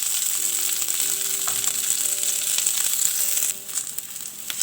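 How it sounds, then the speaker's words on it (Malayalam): Paneer, potato and cauliflower chunks sizzle and fry steadily in a hot pan, a continuous loud crackling hiss with occasional stirring scrapes and no voices. "ഇത് നന്നായിട്ടൊന്ന് മൊരിയണ വരെ ഫ്രൈ ചെയ്തെടുക്കണം."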